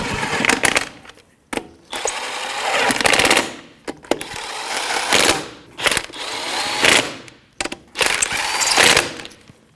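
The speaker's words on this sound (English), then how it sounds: "We're just going to snug it up before we torque it and do it in a star pattern." A power tool drives the lug nuts of a Jeep Patriot front wheel with a 19 mm socket, close and loud, in several long rattling bursts with short pauses between them.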